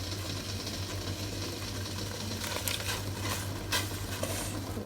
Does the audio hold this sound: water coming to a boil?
yes